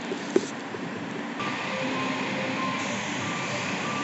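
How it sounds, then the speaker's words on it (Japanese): Series 381 limited express Yakumo 18 departing a station, a steady rolling rumble with a faint motor hum building after a sharp click, continuous and moderately near. "岡山駅特急やくも18号発車していきます。"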